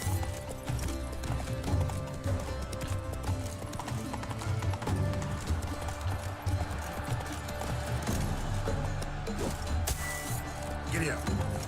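Steady clip-clop of horse hooves galloping in The Witcher 3: Wild Hunt – Blood and Wine, with an occasional whinny and voices talking over the ride.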